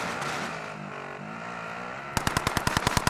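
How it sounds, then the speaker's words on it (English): Rapid automatic gunfire in Call of Duty: Modern Warfare, a tight burst of sharp evenly spaced shots starting midway, loud and close, after a stretch of steady engine-like game noise. "He's shooting."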